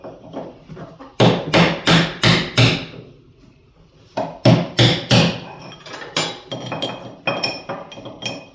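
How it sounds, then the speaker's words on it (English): Repeated hammer blows striking a nut on a ZR 900 motorcycle, close and loud metallic clinks in two bursts of rapid strikes, with a short pause between them and no talking. "I'm gonna beat that nut on."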